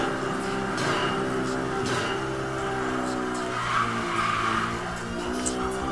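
A BMW M3 in the racing game Need for Speed Most Wanted roars continuously with engine revving and tire squeal, loud and steady throughout.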